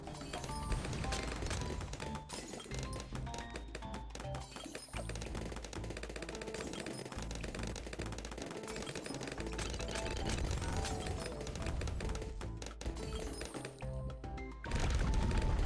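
Gatling Gunner towers fire in the Bloons TD tower-defence game, a dense rattling clatter of rapid taps and pops continuing nonstop at moderate loudness, with no talking.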